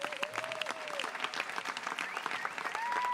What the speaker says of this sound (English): Give a big round of applause for these activists.